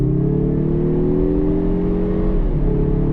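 A 2024 Mazda3 Turbo hatchback with AWD accelerates hard, its engine droning loudly from inside the cabin with a steady rising tone that briefly dips near the end, as if at a gear change.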